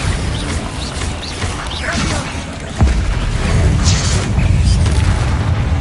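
Bombarda explosion spells in Hogwarts Legacy go off as booming blasts and crashing impacts, with whooshes and a dense, loud battle din running continuously throughout.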